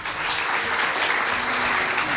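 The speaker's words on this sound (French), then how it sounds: "On peut applaudir Anissa." Audience at a World Altruism Day gathering in Strasbourg applauding Anissa, loud, close, dense clapping that stays continuous with a faint voice beneath.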